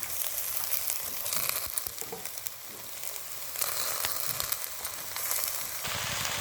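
Spinach sizzles and fries in a pan with spiced potatoes as it is stirred, a steady crackling hiss with occasional scraping, close and without talk.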